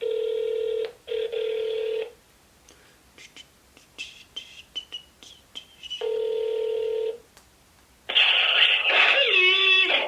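A telephone placing a call, with long steady ringback tones separated by pauses, soft clicks and rustling in between, then a louder burst of a voice over the phone line.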